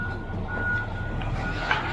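A truck moves on a residential construction site where a house foundation is being poured, its steady engine rumble joined by a continuous reversing beep, with a brief sharper clank near the end.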